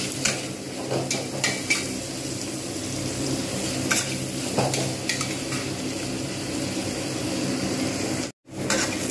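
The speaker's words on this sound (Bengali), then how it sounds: "পেঁয়াজগুলোকে আমি ভালোভাবে ভেজে নেব।" Onions fry in a hot pan with a steady, close sizzle, stirred now and then with light scraping clinks, continuous throughout with a brief gap near the end.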